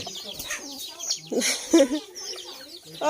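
A group of chickens clucks in short, irregular bursts close by, with louder calls near the middle and end, over an outdoor background.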